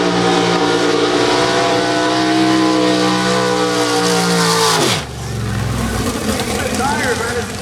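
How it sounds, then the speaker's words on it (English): Pontiac drag car from a nitrous outlaw street car class doing a long burnout, a loud sustained engine roar with screeching tires that drops sharply as the revs cut, then rumbles at lower pitch, with an announcer talking over it. "The Central Pontiac with opening burnout, tires long on"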